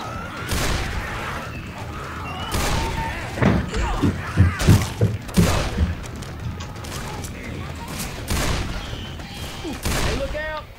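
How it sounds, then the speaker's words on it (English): Repeated gunshots in Left 4 Dead 2 ring out in uneven bursts and single booming shots over about ten seconds, close and loud, with players talking over the firing. "Stop shooting each other."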